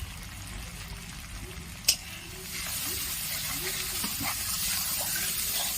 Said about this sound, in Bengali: খুব ভালো করে মশলাটা কষে নেব।